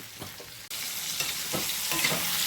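Tomatoes sauté in a pan for a mint chutney, a dense, steady sizzle with brief stirring scrapes near the start and a louder frying hiss after a short pause, close and without speech.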